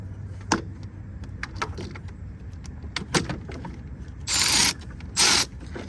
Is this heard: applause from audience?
no